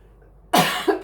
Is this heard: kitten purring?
no